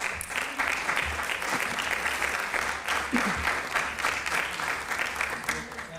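A seated audience at a city budget address claps in a sustained, even wave of dense applause, steady and full throughout, with a few voices faintly underneath.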